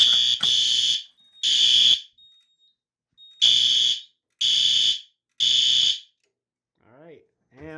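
A System Sensor SpectrAlert Advance fire alarm horn blares in loud, close bursts, sounding in a repeating pattern of pulses separated by silent gaps.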